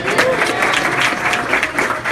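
Crowd clapping at a City Council campaign fundraiser: a burst of lively, close applause from a room full of supporters, steady and fairly loud for about two seconds, with a faint voice briefly audible in the mix.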